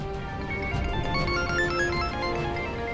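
A mobile phone rings steadily with an incoming call, a continuous electronic ringtone melody filling a short stretch of a TV drama scene.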